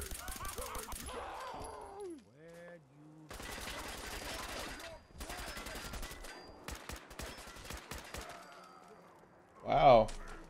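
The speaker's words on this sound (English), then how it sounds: "this gunfire is a lot faster now" Rapid automatic gunfire from a Fallout 4 firefight, with dense bursts of shots and loud impacts filling most of the stretch, a sharp louder blast near the end, and game sounds mixed in.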